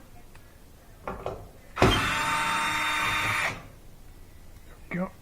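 A power driver fitted with a 1/4 inch socket spins out a screw from a Duet dryer panel: one close, loud whirring burst lasting under two seconds, flanked by brief clicks and a short spoken word.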